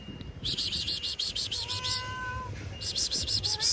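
A cat meows outdoors on a Philadelphia street during a walking tour, giving a run of bright, repeated calls with a short pause before another burst. Low street noise hums underneath.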